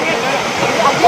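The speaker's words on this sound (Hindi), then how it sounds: "पानी आ रहा" Water rushes steadily over a dam at Simly Dam near Islamabad, giving a loud continuous close roar.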